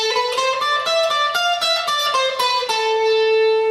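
A distorted electric guitar lick of quick, evenly picked notes moving up and down the neck, played alone and fairly loud.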